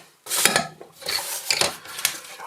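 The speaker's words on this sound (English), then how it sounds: "So what I'm going to do is just to sand the end of the wood." A wooden end of a toy windmill part is sanded by hand, giving several close, loud rasping strokes in quick bursts with brief pauses between them.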